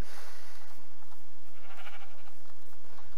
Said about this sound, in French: Là, les moutons. Petits moutons.